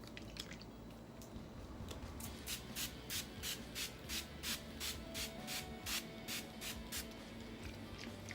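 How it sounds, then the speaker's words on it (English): A makeup finishing spray fires onto a face in a quick series of short, regular spritzes, each a soft hiss, close by in an otherwise quiet space. "I'm going to spray my face using the Zaron finishing spray"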